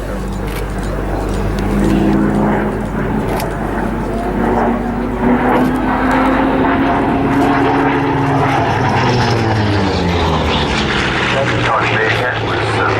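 Grumman F8F Bearcat propeller fighter flying past at an air show, its piston engine rising to a loud, sustained roar and then fading as it pulls away, with a commentator talking over it.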